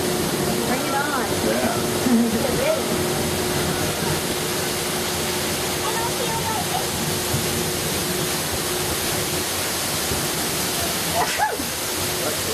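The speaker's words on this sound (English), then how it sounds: "Looks like we're going to have to go through the waterfall" Steady, broadband rushing of falling water from a waterfall beside the Dallas Zoo monorail fills the scene without a break, with people talking and laughing faintly over it.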